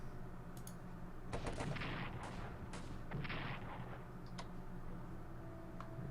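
An artillery shell fired in the World War I strategy game Strategic Command, a loud booming blast with a crackling rumbling tail and a few sharp ticks after, with no voice over it.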